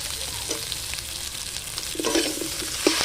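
Potatoes fry in hot oil in a pan as spices go in while a fish curry is being made; a steady, close sizzle carries throughout with a few soft stirring clinks, and nobody speaks.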